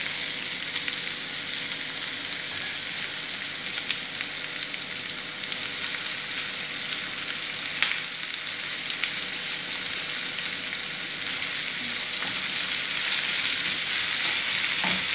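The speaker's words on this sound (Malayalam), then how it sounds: "ക്യാപ്സിക്കം ഇട്ട് നന്നായിട്ട് ഇളക്കണം" Capsicum frying in a pan for egg roast masala makes a continuous bright sizzle, close and even, with faint stirring scrapes and occasional pops, and no voices.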